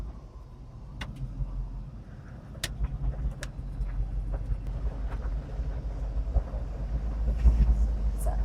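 An LS-swapped K5 Blazer Chalet on ACES EFI cruises along at low speed with a steady, deep engine rumble that builds gradually, with faint clicks and rattles over the top.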